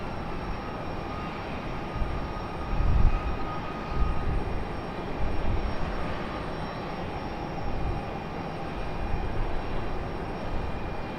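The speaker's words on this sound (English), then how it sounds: "Be able to see that 777 in just a moment." An American Airlines Boeing 777 from London arrives at Raleigh Durham airport, its engines a faint, distant broadband roar that swells and fades slightly throughout, with no talk.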